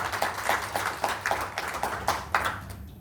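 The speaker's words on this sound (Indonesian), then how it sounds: "Tepuk tangan dong untuk WP." Audience clapping at a motivational talk, heard as a rhythmic series of evenly spaced claps in unison, roughly five per second's pace slowing to about two a second, moderately loud and without talk.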